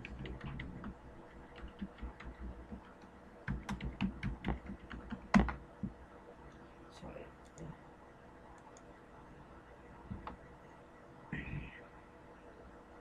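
Typing a Windows admin password on a computer keyboard while joining a Cisco ISE system to Active Directory: scattered key clicks in short bursts, fairly close and moderate in level, with a louder keystroke near the middle and no speech.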